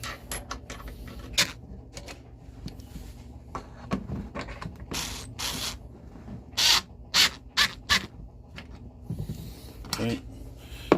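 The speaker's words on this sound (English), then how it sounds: "Get the screws started and then tighten everything up." Screws being started and tightened on a Savage Axis II rifle build, close metallic clicks, scrapes and ratcheting taps in uneven bursts over a quiet room.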